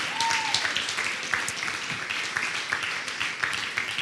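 A church congregation applauding loudly and steadily for the whole stretch, a dense roomful of clapping with a few brief voices underneath.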